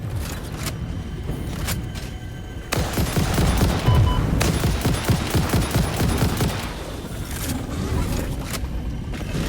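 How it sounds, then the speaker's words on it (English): Rapid rifle gunfire in the video game Satisfactory, loud bursts of shots crowding the whole stretch amid game combat noise, alone with no talking. "Why am I not using my gun to kill these horrible beasts?"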